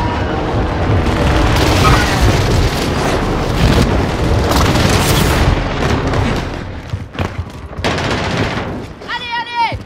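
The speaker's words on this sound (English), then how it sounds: "Allied precision airstrike incoming." Heavy airstrike explosions in a video game roll on as a dense, continuous barrage of loud booms and crackling blasts, easing slightly toward the end.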